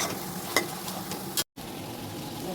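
Masala with yogurt, ginger, garlic and tomato ketchup is stirred in a pan, giving a soft steady sizzle with a few light scraping strokes and a brief dropout, quiet and close.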